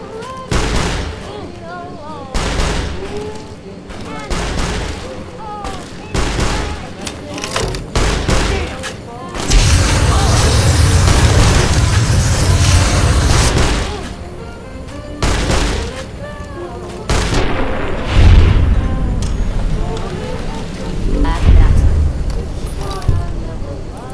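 Gunfire from a worn-out weapon in Fallout: New Vegas, bursts of shots and heavy booms scattered through the stretch, densest in a long loud barrage midway, with a voice talking at points over the game sounds.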